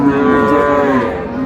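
A Sahiwal cow kept with her calf at Raniganj cattle market in Dinajpur lets out one loud, long, deep moo, close by and steady, lasting the whole moment.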